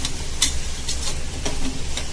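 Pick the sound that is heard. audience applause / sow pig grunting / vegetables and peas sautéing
vegetables and peas sautéing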